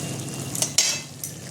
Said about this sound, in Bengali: এবার আমি এর মধ্যে ধনেপাতা কুচিটা দিয়ে দিলাম, একটু নেড়ে দেবো